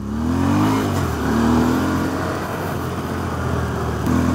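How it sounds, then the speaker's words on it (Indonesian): Dump truck engine labouring ahead on a road near the Jatigede dam, a steady loud rumble with rising and falling strained revs, heard from a following vehicle. "Ada mobil di depan ngeden, mobil dump truck ya"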